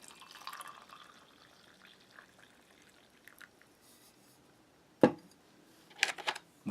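Water is poured into a Spanish military ration meal pouch holding pasta and bouillon, a faint trickle followed by a few louder splashing bursts near the end, with no talking.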